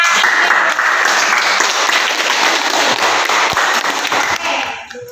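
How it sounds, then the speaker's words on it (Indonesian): Applause from a classroom audience after a student group finishes its presentation, dense steady clapping that stays loud throughout before tapering slightly at the end. "beri tepuk tangan untuk kelompoknya"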